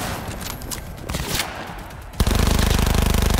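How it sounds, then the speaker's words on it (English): Assault rifle gunfire in Cyberpunk 2077: scattered shots and game effects at first, then a sudden loud sustained automatic burst of rapid rounds that continues to the end. "Oh, this is an assault rifle."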